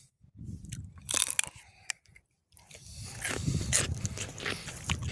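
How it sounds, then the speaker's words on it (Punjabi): Crunchy bites into a raw radish freshly pulled from a Punjab farm field, with several sharp crisp snaps followed by steady close chewing. "ਮੈਂ ਚੱਲ ਮੂਲੀ ਖਾ ਲਈ ਇੱਕ ਪੱਟ ਕੇ"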